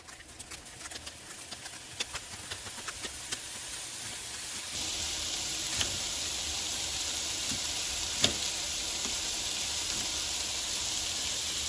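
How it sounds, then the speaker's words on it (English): Steady crackling sizzle of bacon frying in a pan, growing louder and brighter partway through, with a few sharp pops and clicks. "And now the bacon is sizzling, so I'm going to reduce the heat."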